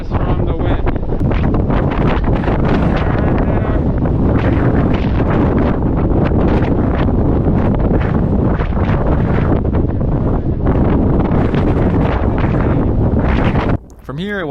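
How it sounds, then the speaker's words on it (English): Strong wind roars across the exposed summit of Mount Washington, a loud, continuous buffeting rush battering the microphone for most of the stretch, easing briefly near the end. "There's nothing protecting us from the wind."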